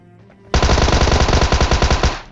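Automatic gunfire in PUBG Mobile during a jump: a brief quiet lead-in, then a loud, rapid, evenly spaced burst of shots that continues steadily for nearly two seconds, close and dominant with no voices.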